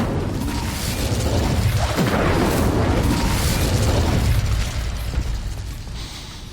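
Incendio fire spell cast in Hogwarts Legacy, a loud low booming whoosh that swells and rumbles for several seconds before fading, no voices.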